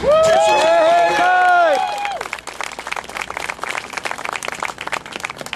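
Audience applauding and cheering at a political rally in Ohio, starting under loud sustained shouted cheers that fade after two seconds, leaving dense steady clapping from a large crowd.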